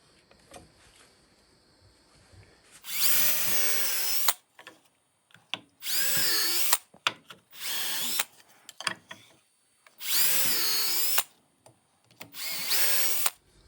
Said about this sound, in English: We're going to drill 3 holes that are going to be countersunk